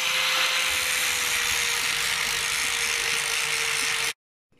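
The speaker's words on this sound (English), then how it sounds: "I'm just going to grind this area a bit now" A grinder works on a brake disc skimming tool with a loud, steady high-pitched grinding hiss and a constant tonal whine, running evenly for about four seconds before stopping abruptly.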